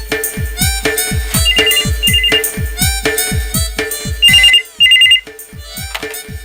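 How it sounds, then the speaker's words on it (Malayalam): A telephone rings in a Malayalam domestic comedy scene, repeated bright electronic ringtone bursts over a steady rhythmic backing beat, loud and close with no talk. "ചിലപ്പോ മോഹനേട്ടന് പനിയാണെന്ന് പറഞ്ഞ് ആരെങ്കിലും വിളിക്കുന്നതായിരിക്കും"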